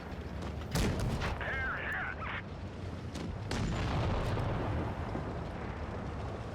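Tank gun fire in World of Tanks Blitz, a medium tank battle, with a couple of sharp booming shots and rumbling impacts over continuous engine and battle noise.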